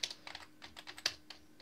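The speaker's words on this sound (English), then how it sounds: "I'm going to type clear to clear the window here" Keys are tapped on a computer keyboard in a Linux Mint terminal, a short quiet run of irregular clicks with no voices.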